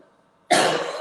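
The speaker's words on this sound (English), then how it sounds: "excuse me, coughing" A single harsh cough bursts out close by after a near-silent moment, loud and breathy, trailing off through the rest of the moment.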